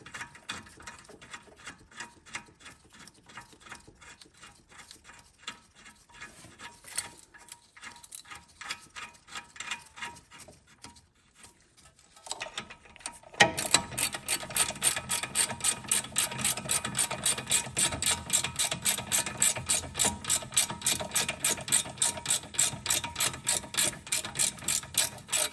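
Rapid ratcheting clicks from a hand tool screwing a part back into a 1982 Mercedes 380SL, sparse and soft at first, then a steady, louder run of quick ticks.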